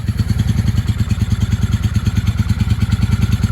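A 1995 Honda Shadow VLX 600 V-twin running on its carburetors, a loud, close, lumpy idle with a fast steady throb and mechanical clatter.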